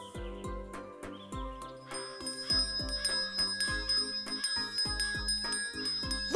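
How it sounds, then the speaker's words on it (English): An ice cream man's bell in a children's cartoon rings over and over in a steady, bouncy rhythm alongside tinkling tones, bright and close, with no talking. "That's the ice cream man's bell!"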